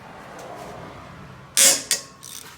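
A ratchet with a 12mm socket loosens rear brake caliper bolts on a 2017 Dodge Grand Caravan, giving two short, loud, close metallic clicking bursts after a faint background hum.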